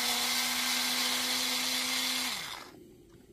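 Cordless power tool unscrewing screws from a Bosch 18V battery pack, a steady close whine that winds down and stops, followed by quiet.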